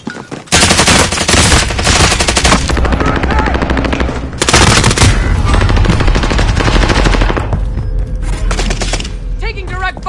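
Rapid machine gun fire and explosive gunfire in a shooter video game, loud and dense across most of the stretch with brief pauses and heavy booms, ending in scattered shots and effects.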